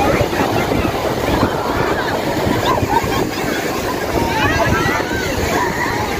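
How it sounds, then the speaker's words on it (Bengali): Sea waves at a crowded Puri beach on a busy morning, a loud continuous roar of surf mixed with wind rumble on the microphone and indistinct voices. "ঢেউ কিন্তু এই পর্যন্ত ঢেউ আসছে,"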